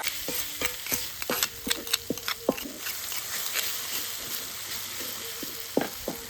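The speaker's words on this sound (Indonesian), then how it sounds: "Lur, minyaknya panas, masukin bumbu tumis." Spice paste for nasi bakar filling sautés in hot oil, crackling and sizzling steadily while a spatula scrapes and taps the pan in repeated, irregular strokes. The stirring is close and fairly loud, and no one speaks.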